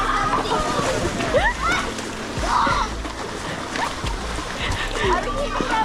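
Horse splashing through water at an equestrian camp, with repeated sloshing splashes under excited voices and shouting.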